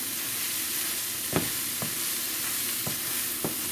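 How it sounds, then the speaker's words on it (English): Ackee and saltfish with garlic stir-frying Jamaican style in a hot pan, a constant sizzle broken by four sharp spatula knocks spaced unevenly. "Remember, we're doing a stir fry, okay? So we just want to saute everything."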